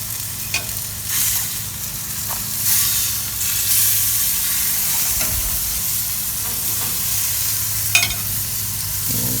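Steaks sizzle on an Oklahoma Joe's grill right after turning, a steady close frying hiss with scattered crackles and pops, occasional clicks and a low hum beneath, no talking.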